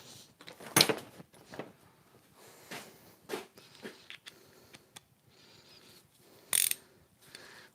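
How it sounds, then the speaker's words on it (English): Ratchet working bolts loose on a Mercedes CLK500 V8 engine, irregular metallic clicks and clunks with a few sharper knocks, close and intermittent in a quiet space. "Let's undo these bolts."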